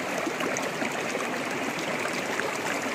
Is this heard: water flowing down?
yes